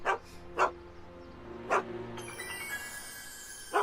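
A dog barks in a Back to the Future video game, four short separate barks spaced across a few seconds, fairly close and clear, with a sustained tonal game background underneath.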